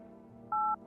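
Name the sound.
telephone keypad dialing tones in video game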